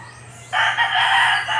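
A rooster crows once, close and loud, in a single drawn-out call that starts abruptly after a quiet moment with a faint low hum beneath.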